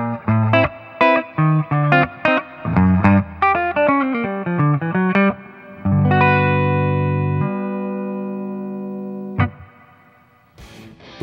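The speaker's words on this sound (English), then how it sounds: "The onboard reverb adds great depth to any guitar tone." Electric guitar through a V3M all-tube micro amp plays a lively run of notes, then holds a long ringing chord that decays with a wash of the amp's onboard reverb, followed by a few sharp strums.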